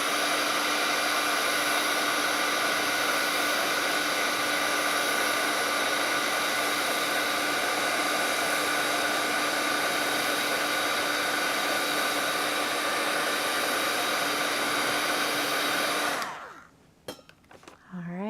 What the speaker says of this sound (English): I'm going to hit this with my heat tool to speed up the drying.